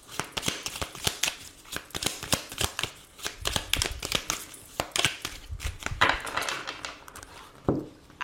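A tarot card deck is shuffled and cut in a quick, irregular run of close riffling flicks and slaps, with papery rustling and a few firmer taps, loud and with no talking over it.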